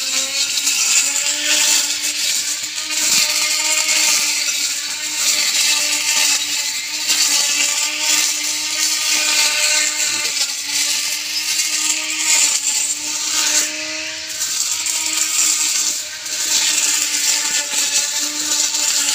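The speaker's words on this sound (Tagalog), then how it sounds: "makuhaan ko ng camera yung grass cutter ni Bunso" An electric grass cutter with a steel blade whines steadily at high pitch, with a strong tonal hum and rough cutting noise that hold without pause throughout, loud and close.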